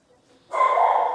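A mistreated Spanish greyhound gives a single sustained bark or yelp, loud and close, rising abruptly after a faint moment.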